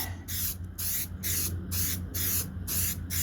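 An aerosol can of DipYourCar HyperDip piano black coating sprays onto plastic body cladding of a 2004 Saturn VUE in five or six rhythmic close bursts separated by short pauses.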